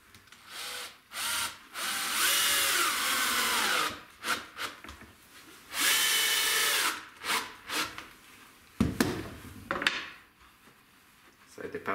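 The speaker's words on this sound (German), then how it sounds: "Also reicht es, wenn ich das bloß einmal zusammenschraube" A power drill drives screws to join wooden boards in repeated bursts of high whirring, several of them long and some short, with pauses and occasional knocks between them.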